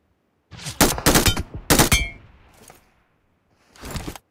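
Sharp bursts of gunfire from a fight in a mobile battle royale game crack in quick clusters, followed by a fainter tail and one more later volley, fairly close and loud with no talking.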